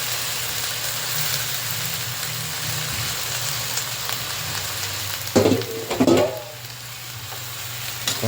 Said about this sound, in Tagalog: konting haluin natin para ma-distribute yung sarap